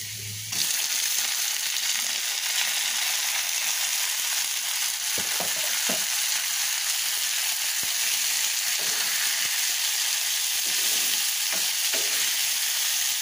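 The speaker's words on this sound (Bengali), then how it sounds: "আর এখন এখানে পেঁয়াজ মরিচ আর রসুন দিয়ে একটু ফ্রাই করে দিচ্ছি।" Onion, chili and garlic frying in oil in a home kitchen pan, giving a loud, continuous hissing sizzle with occasional soft stirring clicks, close up and without talk.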